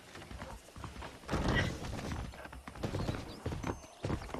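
Horses clip-clopping in the Red Dead Redemption video game, with steady hoof beats and an occasional whinny set against a busy game soundscape.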